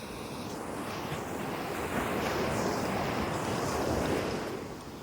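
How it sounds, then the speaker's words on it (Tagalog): Ocean surf washes onto San Juan Beach in Ilocos Sur as a continuous broad roar, swelling slightly midway, with wind buffeting the microphone. "Kami ay nasa dalampasigan ng Ilocos Sur."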